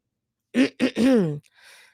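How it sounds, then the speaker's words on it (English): A person clears their throat in three short, harsh bursts, the last one drawn out, followed by a faint breathy trailing sound, close and alone. "Let me clear my throat"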